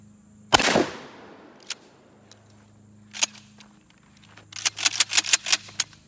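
A Mossberg 590A1 Mil-Spec pump shotgun fires one loud blast at a target outdoors. It is followed by sparse clacks and then a quick burst of metallic racking and clicking.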